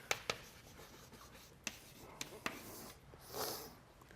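Close handwriting of an equation, pen or chalk scratching in short strokes with sharp taps, then a longer rubbing stroke near the end, no voice over it.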